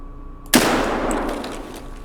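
A single loud shotgun blast in the video game Escape From Tarkov, sharp attack followed by a long, slowly fading echo, heard alone after a brief quiet moment.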